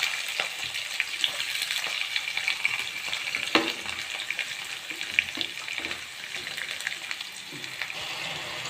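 Curry leaves and chillies frying in hot oil, a continuous close hiss of sizzling with scattered pops and faint stirring, no voices.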